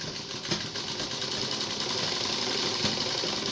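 Sewing machine running steadily while stitching round a collar neck strip, a continuous mechanical whir at close range with slight pulsing and no pauses.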